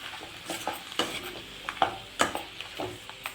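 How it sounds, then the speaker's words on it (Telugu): Tomatoes stirred in a pan for paneer curry: a quick series of sharp spoon-on-pan scrapes and clinks over a soft sizzle, close and fairly quiet with no speech. "టమాటా వేసి ఒకసారి కలిపేద్దాం."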